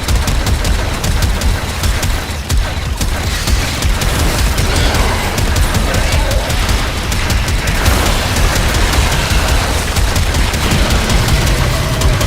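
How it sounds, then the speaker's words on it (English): An automatic grenade launcher fires in the Warframe video game, producing dense, loud, continuous bursts of booming blasts with no pauses. "Happiness is an automatic grenade launcher."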